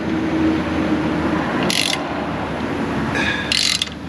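Ratchet tightening suspension bolts on a lifted Jeep in an auto repair shop, heard as two short bursts of rapid clicking over steady shop background noise.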